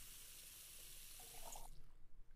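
A tap pours water steadily in the cooking game Cooking Simulator, a soft, even gush that cuts off after a moment, followed by a few faint knocks and splashes.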